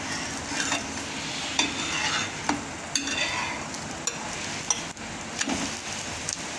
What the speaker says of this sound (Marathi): आता वरून असं तेल टाकून घ्यायचं साईडला पण थोडं थोडं टाकायचं आता आपण पलटी करून घेऊया